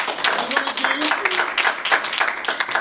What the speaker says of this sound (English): Give Brother Reginald, Brother Leroy, and our artists another round of applause again